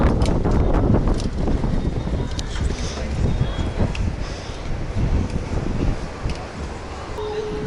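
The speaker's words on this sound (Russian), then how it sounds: "Вот это ветер, да." Strong wind gusts buffet the microphone outdoors in Rishikesh, India, producing a steady loud roaring rumble throughout, while people talk over it.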